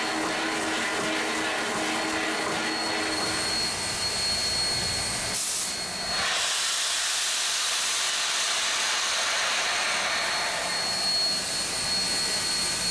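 Baldwin steam locomotive 1702 at Dillsboro station gives off a loud, steady hiss of escaping steam, a continuous broadband rush with a brief change midway and no voices.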